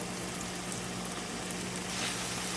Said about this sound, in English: I'm actually going to drop my shrimp in there.